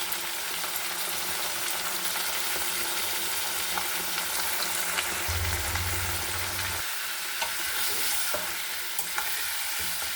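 Chicken with turmeric powder and lemon juice frying in a pan, a loud continuous sizzle and crackle with light stirring throughout, no talking.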